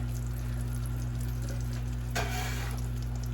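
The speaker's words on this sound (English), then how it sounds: "next we're going to add the apples and the onions with that handy dandy" Apples and onions drop into a hot skillet with plenty of avocado oil, and a sudden sizzle bursts out partway through over a steady low background hum.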